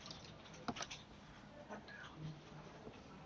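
Quiet keyboard typing at a computer, a few scattered soft key clicks in a short burst with a low murmur in the background.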